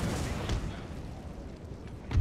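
Cannon artillery fire from the Total War game set in the Thirty Years' War: a steady rumbling barrage with heavy booms near the start and end, fairly loud and continuous.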